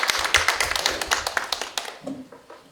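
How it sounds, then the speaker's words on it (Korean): Audience applause at a public forum on transport fare support for seniors, children and youth, a burst of close, brisk clapping that thins out and fades after about two seconds. "큰 박수 부탁드립니다"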